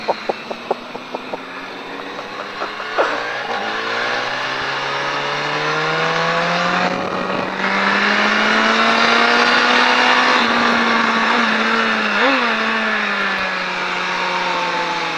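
Triumph Daytona 675 motorcycle accelerating hard on a race track at La Ferté-Gaucher, engine note climbing through the gears in rising sweeps with brief dips at shifts, loud and close throughout.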